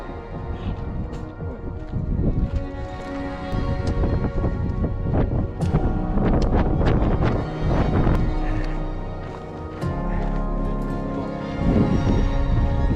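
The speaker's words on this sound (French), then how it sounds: "Attends les coups de vent." Strong gusts roar and buffet across a mountainside during a night ascent of Mont Thabor, a steady loud wind rush with rumbling microphone buffeting throughout.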